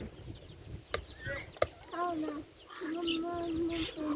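Chickens cluck in a rural Thai household yard where chicken feet are being prepared with rice noodles, short clucks and a sustained call rising over background chatter and low rumble, with two sharp knocks punctuating the scene.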